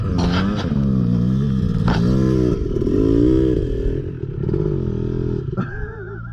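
A motorcycle engine revs and bogs in uneven surges as the rider falls off, with clattering and scraping noises, loud and close throughout.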